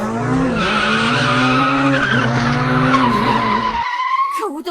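Car tyres shriek in a long, loud skid as the car brakes hard into a curve during a race, the squeal holding for several seconds before cutting off abruptly.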